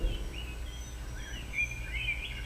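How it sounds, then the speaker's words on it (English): Birds chirp and warble outdoors in short rising and falling calls, fairly faint over a low steady background hum; no clear cricket trill stands out. "You hear birds around you, and a cricket or two."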